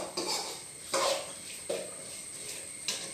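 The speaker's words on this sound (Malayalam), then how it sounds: "മഞ്ഞൾപ്പൊടി ഗരം മസാല കുരുമുളക് പൊടി ഇതെല്ലാം കൂടെ നമ്മൾ ഇതിലോട്ടിട്ട് ഒരു രണ്ട് മിനിറ്റ് ഒന്ന് ഇളക്കി കൊടുക്കും" Clam meat masala with turmeric, garam masala and pepper powder being stirred in a pan, a few separate scraping strokes of a spoon against the metal, close and fairly quiet.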